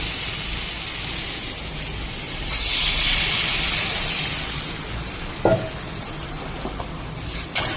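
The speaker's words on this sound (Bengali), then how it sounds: "সবজিটা কষানো আমার হয়ে গেছে, এবার আমি জল দিয়ে দেব" Water poured into a hot pan of sautéed vegetables, a broad continuous hiss that swells, then eases into a softer steaming sizzle with a couple of small clinks near the end.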